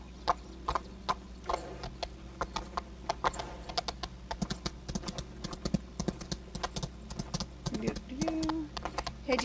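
Horses clip-clop along in the video game Equinox: Homecoming, a quick, uneven patter of hoof taps close up, mixed with soft game music and occasional short tones near the end.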